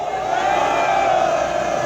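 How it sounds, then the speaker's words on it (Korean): An outdoor street rally crowd in Korea greets a speaker with a steady roar of applause and cheering. The sustained, evenly loud noise has a faint ringing tone running through it. "여러분 뜨거운 박수로 맞이해 주십시오"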